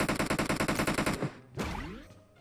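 An automatic weapon in the video game PUBG Mobile fires a rapid, even string of about a dozen shots. It stops abruptly, followed by a brief whooshing tail.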